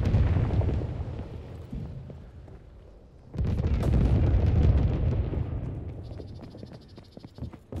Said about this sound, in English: Enemy flak incoming.